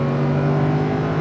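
A Lamborghini Huracan engine on light throttle at a Speed Vegas track, a steady, close mechanical drone that holds an even pitch for a brief moment.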